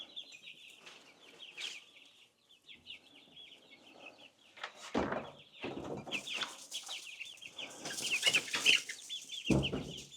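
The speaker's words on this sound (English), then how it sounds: "So here are the new big chickens." Chickens cluck and chirp softly in a steady, busy background chatter, with a few louder rustling bursts and wing flaps up close.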